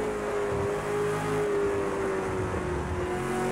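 A V8 Supercar engine in Project CARS 2 drones steadily at moderate level as it downshifts into the S-curves at COTA, a continuous hum with faint pitch shifts and no talking.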